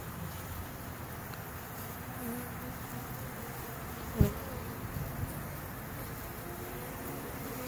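A swarm of honey bees buzzing in a steady, soft drone outdoors, with one brief thump partway through and no clear talking.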